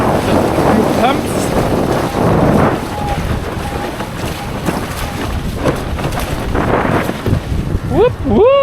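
A wind gust builds while windfoiling on open water, heavy wind buffeting the microphone over rushing water, with voices calling out near the end.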